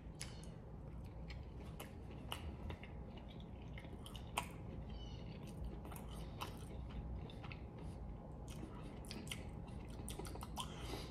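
Someone bites into and chews horse meat, producing quiet, close, irregular wet clicks and crunches against a soft background hiss.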